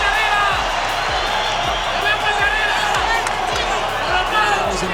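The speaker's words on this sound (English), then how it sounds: "The crowd was on its feet, roaring in awe." A boxing arena crowd roars continuously through a tense Isaac Cruz bout, a dense, loud wall of cheering and shouting with scattered whoops rising and falling, and no single voice standing out.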